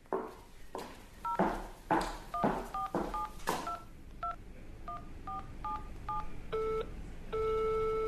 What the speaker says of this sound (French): je dois passer un coup de fil